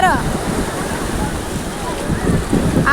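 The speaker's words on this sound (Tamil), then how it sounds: "அப்பா, பெரிய அலை, பெரிய அலை, பெரிய அலை." Big sea waves roll in at a beach as a steady roar of surf and wind noise fills the whole clip, with a voice faintly heard over the water.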